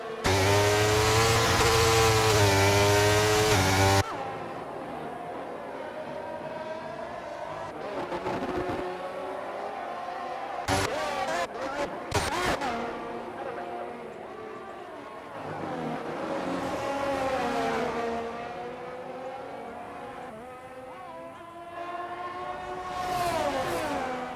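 F1 race cars in a racing video game, with DRS and ERS deployment on the run down to turn 4 behind an Aston Martin, howl at high revs. A loud, sustained engine whine opens the scene, then engine tones rise and fall through gear changes, with occasional sharp bursts.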